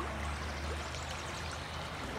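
River water flows continuously through a city park in Havana, a steady rushing, gurgling wash, close by and unbroken, with no voices.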